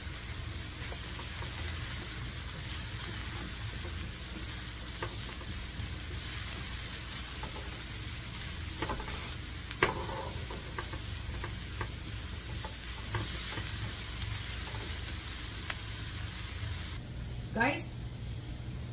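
Japanese-style korokke croquette filling sautéing in a pan: a continuous sizzle with stirring and scraping strokes, occasional clanks of the utensil, and someone speaking now and then over the cooking.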